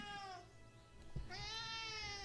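A cat meows twice indoors, two drawn-out tonal calls with a short gap between them, fairly close and alone, over a faint room hum.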